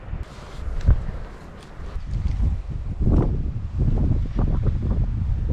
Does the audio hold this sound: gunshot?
no